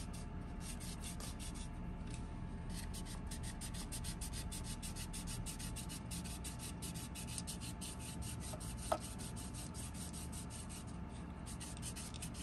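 A small antenna part is sanded by hand, giving a steady, faint, rapid rubbing rasp that repeats in quick even strokes for the whole stretch, with one brief tap near the end.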